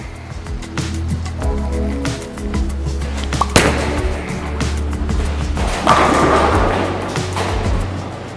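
A Storm Bionic or 900 Global Vengeance bowling ball is thrown down a lane. It makes a steady rolling rumble with a sharp knock partway through, then a louder crashing burst near the end, heard alone without talk.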